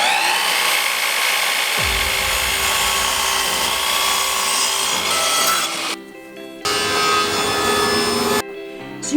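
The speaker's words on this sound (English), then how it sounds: "put it on my table saw and cut it down to the right size" Table saw blade spins up and cuts a wood board to size, a loud whining motor with rough rasping through the cut, briefly dropping off twice near the end.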